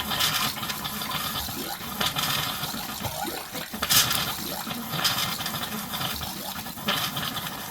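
Air and water sputter and hiss out of RV water lines being blown out with air for winterizing, a continuous noisy gurgling rush with irregular spurts and pops.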